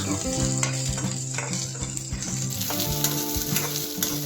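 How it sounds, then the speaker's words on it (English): Sweet corn kernels fry and crackle in a hot pan while being stirred, a loud, constant sizzle with thuds and scrapes from the stirring spoon, close up and without voices. "Stir it continuously without burning the sweet corns."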